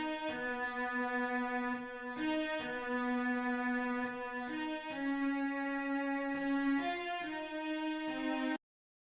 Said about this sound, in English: a preset called 3 cellos from SRX Orchestra, and it sounds like this.